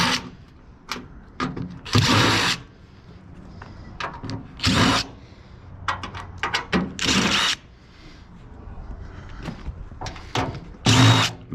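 A power driver backs screws out of an old microwave being taken apart for scrap, giving short, loud bursts of whirring separated by pauses, clicks and handling noises.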